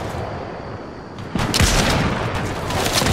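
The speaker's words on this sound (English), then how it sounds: "Yeah, there's people sniping at us." Sudden sharp cracks of sniper gunfire in the video game Fortnite, breaking in loud after a short lull, followed by a dense rumble of further shots and impacts nearby.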